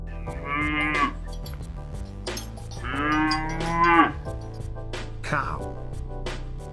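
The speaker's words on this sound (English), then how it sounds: "Cow." A cow lows twice in long, drawn-out moos, loud and close, over a low steady background hum, with no talking heard.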